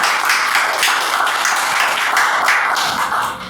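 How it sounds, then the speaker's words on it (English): Applause from an audience at a group artist talk, a dense steady wash of many hands clapping close by that runs evenly throughout and tapers slightly at the end, with no talk over it. "So we're going to give a little applause for the artist."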